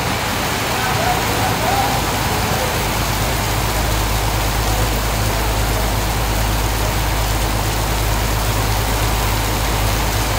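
Heavy rain pours down outside a bus in Indonesia as a loud, unbroken wash of noise that stays at the same level throughout, with a low rumble underneath.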